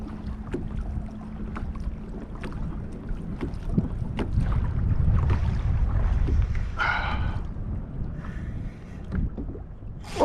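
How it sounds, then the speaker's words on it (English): A kayak being turned around on open water off Grassy Key, with soft paddle splashes and water lapping amid steady wind noise, fairly close and moderately quiet. "I gotta get this kayak turned around to face him."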